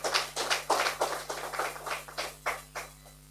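An audience at a meeting of the Association of Obstetricians & Gynecologists of Uganda claps in a brief, thin round of applause, distinct hand claps spaced unevenly and thinning out over a steady electrical hum.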